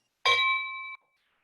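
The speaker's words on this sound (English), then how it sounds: "I will now call the meeting to order by ringing the Rotary bell." A Rotary Club meeting bell struck once, giving a single bright, clear ring that sustains for under a second and cuts off cleanly, heard alone in a quiet room.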